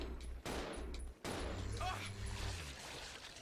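Bursts of gunfire from the video game Resident Evil 0 ring out in quick succession, loud and sharp, with a person talking over the game sounds.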